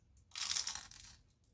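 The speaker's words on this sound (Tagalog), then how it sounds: "kagat, lumpia." A bite into crunchy lumpia, a Filipino fried spring roll, gives one brief, close crackling crunch that fades into quieter chewing, with no talk over it.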